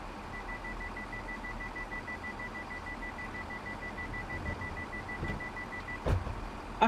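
In Train Sim World 5, the door buzzer on a Midland Turbostar train pulses as a faint, steady run of short repeated tones over quiet cab rumble, then cuts off just before a couple of soft clunks.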